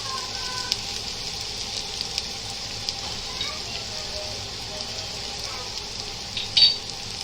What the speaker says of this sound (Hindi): तेल गरम हो गया। अब इसमें प्याज डालेंगे। प्याज के साथ कटी हुई मिर्ची डालेंगे।